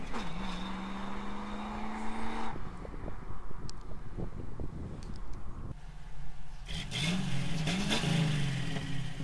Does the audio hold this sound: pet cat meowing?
no